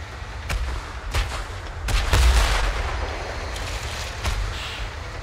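Tank cannon fire in the video game Tank Force: several sharp booming shots spaced a second or two apart over a steady low rumble, one heavier blast near the middle, fairly loud with no talking.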